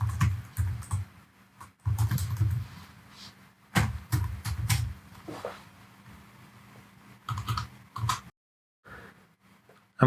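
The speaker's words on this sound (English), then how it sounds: "So I'm going to type that in here." Keystrokes tap on a computer keyboard in short clustered bursts separated by pauses, close and moderately quiet, with a few heavier thumps among the clicks.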